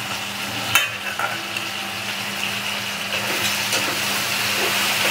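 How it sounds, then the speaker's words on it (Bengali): Diced pointed gourd, potato and prawns stirred together in a frying pan, with a steady oily sizzle and occasional scrape of the spatula, one sharp clatter near the start, close and continuous. "এবার সব মিশিয়ে একসঙ্গে মিক্স করে আমি নাড়ছি।"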